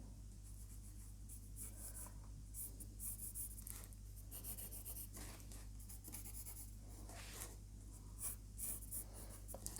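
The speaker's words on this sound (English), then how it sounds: "So just sketching that in, and the other end." Pen or pencil sketching lettering on paper, a steady soft scratching with short strokes and brief pauses, close and quiet, no talking.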